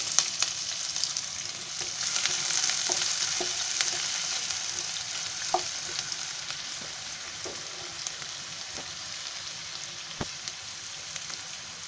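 Chopped onion frying in hot oil with garam masala for tomato rice, a steady broadband sizzle running throughout with occasional sharp clicks and pops of spoon or spatula stirring; no one speaks.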